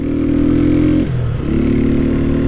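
A motorcycle fitted with a small aftermarket exhaust revs loudly and close, holding a steady high rev, dipping briefly in pitch, then climbing back up.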